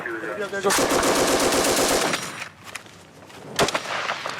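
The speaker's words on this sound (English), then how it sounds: "That building out there is the sporadic fire coming from." Sporadic gunfire from a building in Afghanistan during combat: a loud, rapid automatic burst, then a lull and a single sharp shot, close and harsh.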